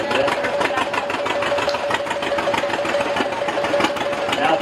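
An old tractor engine runs steadily at a farmers day parade, a loud continuous mid-range chugging with a constant tone through the whole stretch, close by and uninterrupted, with no voices over it.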